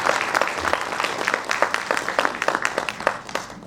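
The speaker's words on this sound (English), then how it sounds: "Can we begin the program with a round of applause?" A conference audience applauds, many hands clapping in a lively, uneven patter with distinct sharp claps standing out, moderately close and continuous.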